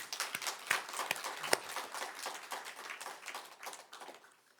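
Church congregation applauding during a Korean Sunday worship service, a dense patter of hand claps that holds steady and then thins out and fades over several seconds, with no talking over it.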